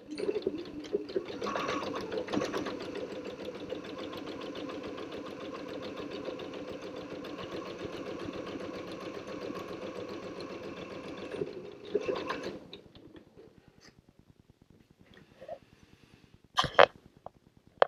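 A sewing machine stitches straight across the top edge of an ironing board cover, whirring steadily for about twelve seconds, close up, before stopping, followed by a few light handling clicks.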